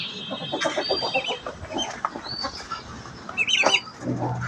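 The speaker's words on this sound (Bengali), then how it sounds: "এই হচ্ছে আমার ঘরের বাচ্চা মুরগি, এটা প্রায় ডিম পাড়ার সাইজ চলে এসেছে" A young country hen, nearly of laying age, gives short soft clucks and chirps in a farmyard, with scattered bird calls and rustling around it and no talking.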